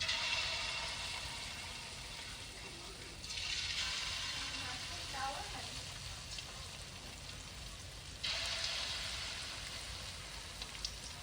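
Fish coated in flour fries in hot oil, giving a steady, dense sizzle and crackle that surges louder twice, with faint murmuring voices in the background.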